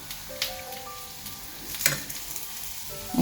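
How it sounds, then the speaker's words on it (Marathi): Fish frying in a pan gives a steady soft sizzle with small crackles and an occasional louder pop, close and without talk. "आनी घालया म्हणटा आमची फीश फ्राय."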